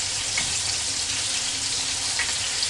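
Hamburger patty searing in an iron skillet, a steady close hiss of sizzling fat with a low rumble beneath, continuous and even throughout without any talking.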